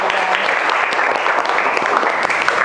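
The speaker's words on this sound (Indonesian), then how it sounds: "aplaus dulu untuk jawaban kalian" Classroom applause for students' answers, a short burst of brisk, continuous clapping from many hands close by.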